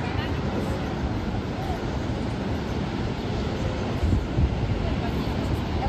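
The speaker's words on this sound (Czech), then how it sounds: "Teď jako jo, jsou tam nějaký velký vlny" Big waves on a turquoise sea roll onto the shore in a steady, close, broadband roar, with wind buffeting the microphone and a brief louder surge near the end. No one speaks.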